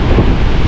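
Loud wind buffets the microphone over a steady roar of ocean surf near El Morro fortress in San Juan, a dense continuous rumble with no speech.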